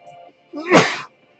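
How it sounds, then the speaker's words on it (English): A single loud sneeze with a short sharp burst, preceded by a brief quiet inhale, close to the microphone. "Ooh, I'm gonna sneeze."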